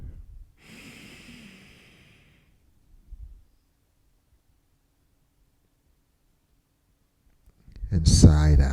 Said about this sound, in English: Take one deep breath in.